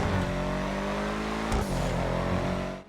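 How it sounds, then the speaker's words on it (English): Engine of the Schlagen GT sports car in GTA Online, modeled on an AMG GT R, holding a loud, steady roaring drone with a brief dip and shift near the middle, alone without talk. "Now, I like this car for the sound. It is an amazing sounding vehicle."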